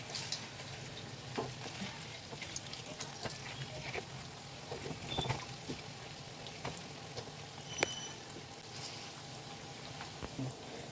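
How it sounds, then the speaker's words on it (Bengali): Dal vadas, lentil fritters, sizzle in hot oil with a steady soft crackle and scattered pops and spatters, close and fairly quiet, with no talking. "দেখুন, বড়াগুলো সব ভাজা হচ্ছে।"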